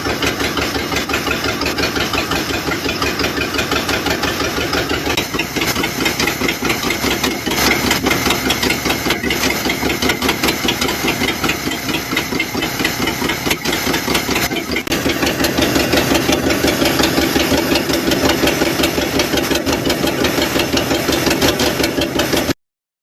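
A 1955 Cadillac Coupe Deville V8 idles loudly and steadily with its timing slightly retarded, a close, throbbing, even rhythm that runs on without pause.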